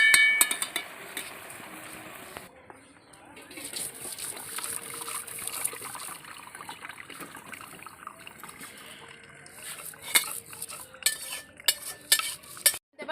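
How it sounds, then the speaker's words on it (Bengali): Boiled banana flower and potato being mashed together by hand in a bowl: soft wet squelching and squishing, close and fairly quiet, with irregular sticky smacks that grow sharper toward the end. "এবার আমি মোচাটা মাখিয়ে নেব।"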